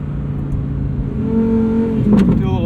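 2023 Lamborghini Huracan Tecnica accelerating in sport mode, engine note rising in pitch as it pulls hard, loud and heard from inside the cabin, with a brief sharp shift blip near the end.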